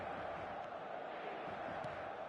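A stadium crowd in the eFootball video game gives off a steady, distant roar of cheering and chanting that stays constant throughout.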